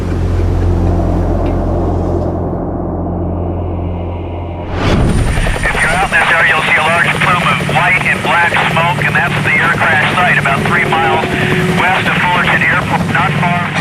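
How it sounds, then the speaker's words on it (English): A news helicopter at the scene of an air disaster, its rotor thudding loudly and steadily with a whining turbine overhead, entering abruptly after a quieter stretch with talk and continuing close and sustained. "Helicopter news crews are quickly on the scene"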